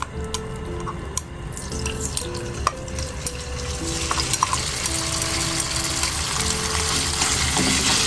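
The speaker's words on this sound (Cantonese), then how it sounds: "我哋先炒一炒呢個豬肉" Steady sizzling and frying of pork in a wok, with scraping, clinking stirring strokes, close and continuous, with a faint hum underneath.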